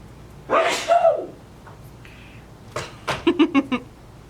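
A single sharp sneeze bursts out close by, followed by a short pause and some quick breathy sounds, with faint talking nearby.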